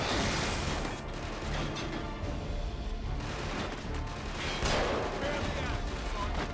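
Rifle gunfire in the video game Killzone 2, a dense continuous barrage of shots and blasts filling the soundscape, loud and near, with a voice talking over the battle.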